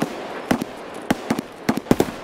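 Distant gunshots in the video game Escape from Tarkov crack in quick irregular bursts, about a dozen sharp reports spread over two seconds, moderately loud with some echo.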